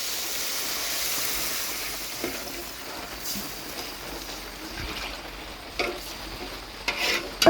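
Water is poured into a pan for barnyard millet upma and sets off a steady broadband hiss and sizzle that runs throughout with a few sharper clinks and splashes.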